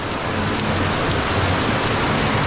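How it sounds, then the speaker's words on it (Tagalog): Heavy rain pours down in a dense, constant roar of drops striking surfaces, loud and close with no voices. "Malakas ang ulan."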